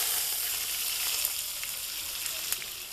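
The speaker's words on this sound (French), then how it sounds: "Je vais griller. Je mets mes oignons." Onions grill in a pan for a Congolese chicken in white sauce, giving a continuous close hiss of sizzling oil with a few faint crackles and no talking.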